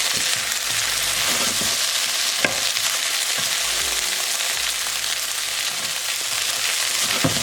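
Sliced okra for bhindi bhaji stir-frying in hot oil, a steady dense sizzle holding throughout with occasional soft scrapes and clicks of stirring, no voices.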